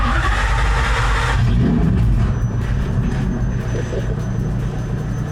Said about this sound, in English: Half the exhaust is off. We gotta do the exhaust check.